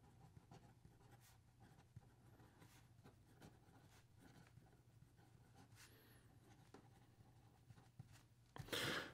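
A Benu Viper fountain pen with a broad stainless steel Schmidt nib scratches softly across paper in quiet, irregular strokes, faint and close, ending with a brief louder rustle.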